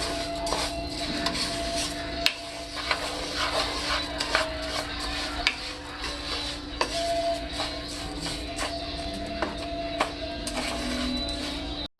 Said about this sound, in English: Gonna stir up that rice so it can get coated in that vegetable oil.